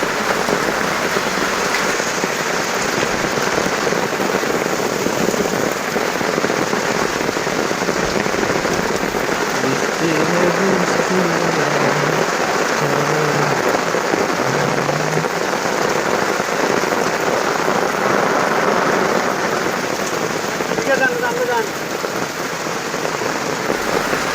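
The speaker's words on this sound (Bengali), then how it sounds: "অবশেষে আজকে 2 দিন অতরে বৃষ্টি হইতেছে" Heavy rain pouring down steadily, a dense continuous hiss of drops striking surfaces, loud and unbroken with no voices.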